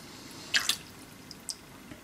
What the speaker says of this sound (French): Bien rincer ma lame également.